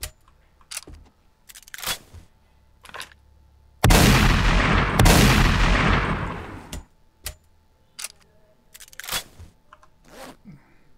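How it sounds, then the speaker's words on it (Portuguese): A weapon fires in the game 7 Days to Die: loud, sharp single shots spaced irregularly, broken by one long, sustained roaring burst in the middle, with quiet gaps between. "Vamos ver como é que é o tiro dela."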